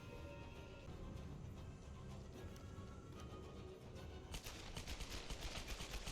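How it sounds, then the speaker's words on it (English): Rapid pistol gunfire from dual extended-magazine pistols in the Tomb Raider video game, shots spammed in quick succession amid dense game noise, the bursts turning sharper and more distinct toward the end. "this part I found kind of funny because it like makes you spam the guns"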